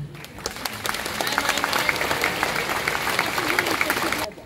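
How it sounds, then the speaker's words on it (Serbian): An audience claps steadily at a film presentation, greeting the crew of the Serbian film "Nečista krv – greh predaka". The dense applause holds for about four seconds at moderate loudness, then stops abruptly. "A sada bih zamolila da velikim aplauzom i pozdravimo ekipu"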